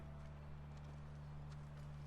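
Horse hooves clip-clop in the video game The Last of Us, a faint, steady patter of hoofbeats over a low constant hum.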